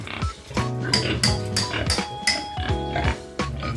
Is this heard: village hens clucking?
no